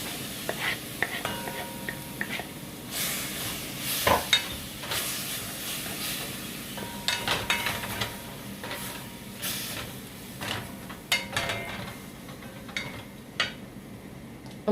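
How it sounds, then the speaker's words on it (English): Lobster stirred into bacon mac and cheese in a pot, with soft scraping, clinking spoon taps and quiet sizzling spread irregularly throughout, under faint background noise. "I'm going to actually add the lobster."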